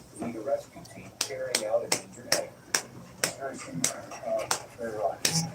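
One person does a slow clap with their hands, a sharp clap roughly every half second in an even rhythm, with someone talking between and over the claps.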